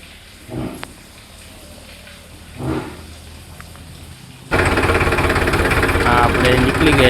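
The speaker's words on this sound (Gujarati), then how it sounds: "આપણે નીકળી ગયા ટ્રેક્ટર લઈને" A tractor being driven out for servicing, its engine loud and steady after a quieter stretch with a few brief thumps and rustles, rumbling close by to the end.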